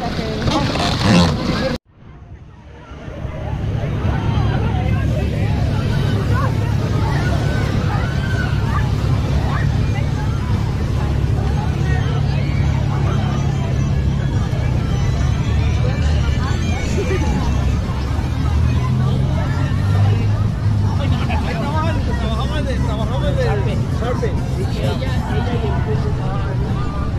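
Steady low engine rumble from a parasailing motorboat on Lake Tahoe, running continuously close by under wind noise and a background babble of voices, with people talking over it throughout.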